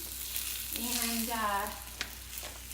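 A sweet potato tortilla frying in an oiled cast iron skillet, a close steady sizzle with a brief tonal whine in the middle and a single sharp tap near the end.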